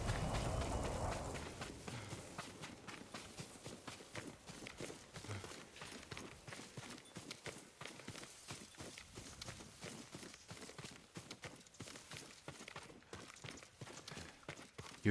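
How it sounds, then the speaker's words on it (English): Hooves clip-clop steadily from a horse walking in the Ghost of Tsushima video game, an even run of soft repeated beats at moderate distance, alone without talk. "Yuriko's horse."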